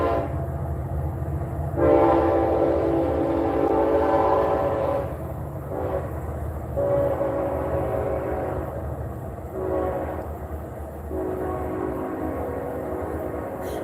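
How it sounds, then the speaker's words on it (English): A train horn sounds in several long blasts with short gaps while the train rolls past, a steady rumble of wheels running underneath the whole time, fairly close and loud. "oh, there's the train in real life."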